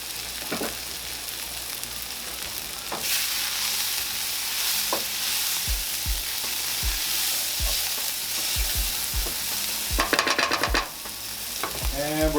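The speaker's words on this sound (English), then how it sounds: "right now we're gonna go in with some butter." Butter melting and sizzling in a hot pan for beef stroganoff, a loud steady hiss swelling after a few seconds, with scattered low knocks and a brief burst of louder spitting near the end.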